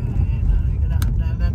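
A car drives along a road in the Appalachian area of New Jersey, with a steady low engine and road rumble heard from inside the vehicle.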